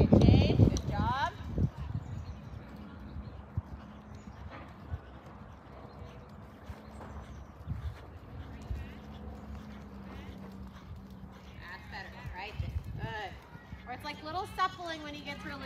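Horse hooves clip-clop faintly at a steady pace during a warm-up ride, while a rider and an instructor talk over them throughout.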